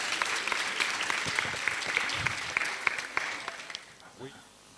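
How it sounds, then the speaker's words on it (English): At a graduation ceremony, an audience applauds a performance, a moderately distant crowd clapping steadily for several seconds before tapering off quietly, with a voice faintly heard near the end. "one last round of applause to Casting for that beautiful piece"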